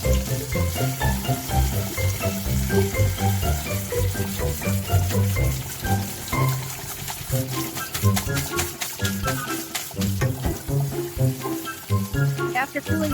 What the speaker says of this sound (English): At first, cool it down with cold water.